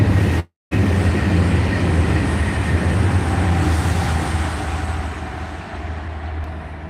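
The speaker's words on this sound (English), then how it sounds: "Train." A train runs past on the East Coast Main Line, a loud sustained roar and rumble filling the whole span and easing slightly toward the end, with no talking.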